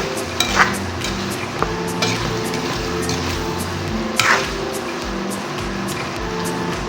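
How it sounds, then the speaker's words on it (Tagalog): A spoon stirs pork giniling together with fried potatoes and carrots in a pan, scraping and clinking softly over a constant low sizzle, with a couple of sharper taps on the pan. "patatas at carrots kanina. Haluin natin."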